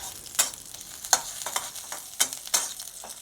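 Garlic frying in oil over low heat in a pan: a soft crackle with sharp scraping clicks from stirring, four or five distinct strokes, close and without talk.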